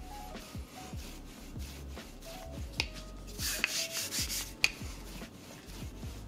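Empanada dough for baked ground beef empanadas being rolled out with a rolling pin, repeated rhythmic rubbing and thumping strokes on a work surface, close and fairly quiet.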